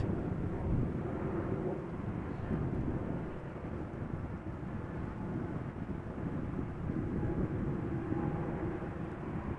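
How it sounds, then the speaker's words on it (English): Embraer 195 E2 airliner arriving at Amsterdam Schiphol in crosswind, a continuous low rumbling roar at moderate distance, steady throughout with some wind buffeting. "Behind it is an E2 Embraer 195 that is coming back from Zurich"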